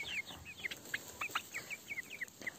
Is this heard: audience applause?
no